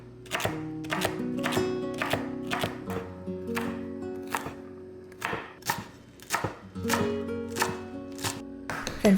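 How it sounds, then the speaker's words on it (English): Knife chopping vegetables into evenly sized pieces for fried rice on a cutting board, a steady series of crisp, close knocks in quick bursts with short pauses, over faint kitchen background. "for the veggies, I'm just cutting everything up into relatively the same size."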